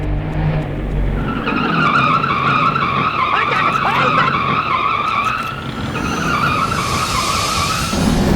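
A truck braking hard with its tires skidding, a sustained high screech with wavering pitch lasting about eight seconds, loud and close, over engine rumble with no talk.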